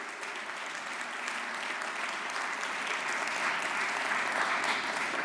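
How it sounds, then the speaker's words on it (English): Steady applause from an in-person audience at a recovery event, a dense even patter of many hands clapping that runs unbroken and fairly loud throughout, with no voices rising above it. "Let's give them a round of applause."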